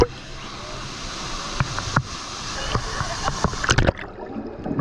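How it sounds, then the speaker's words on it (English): Water sloshes and splashes in a wave pool at Universal's Volcano Bay water park, with a continuous wash and occasional sharper splashes, close by, as a voice talks over it. "We have a nice, consistent flow of waves coming through right now."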